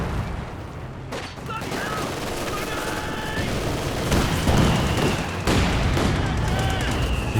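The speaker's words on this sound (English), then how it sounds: "cool down pretty fast on the mortar pit with the regular barrage" A dense battle rages in Company of Heroes 2, with mortar barrage and gunfire making loud, continuous rumbling booms and crackling shots, under a voice talking over the action.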